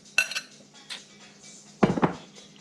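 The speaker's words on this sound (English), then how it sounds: "I'm putting the 1 pound of browned ground beef in" One pound of browned ground beef scraped into a casserole dish for a bean casserole, a few sharp metal-on-dish clinks and scrapes in two bursts, close and crisp against a quiet kitchen.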